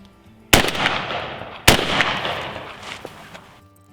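A shotgun fires a reloaded Federal Gold Medal paper hull shell, giving two sharp, loud close-range blasts about a second apart, each followed by a decaying outdoor echo.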